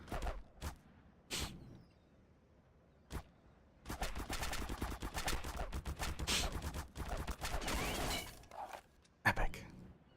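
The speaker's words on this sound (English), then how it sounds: "And now I can just kind of shoot my gun in the middle of this cutscene." Bursts of gunshots fired during a cutscene in El Matador, a few isolated shots early, then a long rapid volley of loud automatic fire with shattering, ending in a couple of scattered shots.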